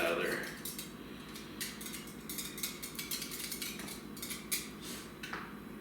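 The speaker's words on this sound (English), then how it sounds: "Got some sour cream still hanging onto the center of the whisk." A wire whisk knocks against a mixing bowl to shake off clinging sour cream, giving a string of light, quick metallic taps and clinks at close range.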